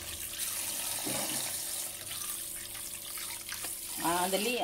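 Soaked salmon pieces rinsed under running tap water, a steady close wash of splashing and trickling throughout, with a louder gush near the end, faint music or voice underneath.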